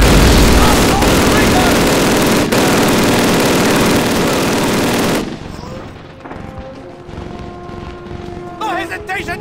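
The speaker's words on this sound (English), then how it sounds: "Open fire! Fire!" Dense battlefield gunfire in Call of Duty at Red Square, Stalingrad: continuous loud machine-gun rattle and rifle shots for about five seconds, then quieter scattered shots and distant rumble under shouted voices.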